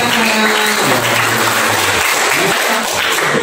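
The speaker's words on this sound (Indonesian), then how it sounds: "Ya, tepuk tangan dulu semua." A group of students claps together during a museum tour-guiding lesson at a vocational school in Sidikalang, producing dense, steady, loud applause for a few seconds with faint voices murmuring beneath it.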